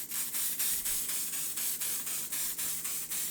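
L'Oreal 3-Second Setting Mist sprays in a quick, even series of about eleven short hissing pumps, close and steady in rhythm, with no talking.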